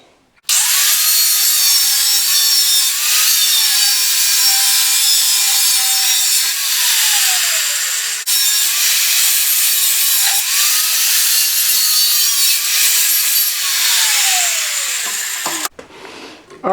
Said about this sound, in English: So let me get my cutoff wheel out, find my safety glasses,